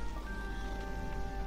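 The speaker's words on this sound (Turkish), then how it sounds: "Yağmur yağıyor" Rain falling in a video game, a steady dense patter of drops forming a continuous wash, with faint tonal game sounds humming underneath.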